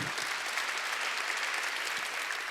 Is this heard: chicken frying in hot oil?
no